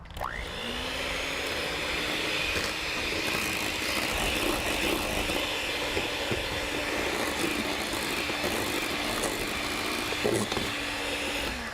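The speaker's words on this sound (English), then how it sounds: "You see how my mixer is now leaving its mark in the cream?" An electric hand mixer whips cream with a steady, loud whirring motor drone that runs almost the whole time, its pitch briefly wavering near the end.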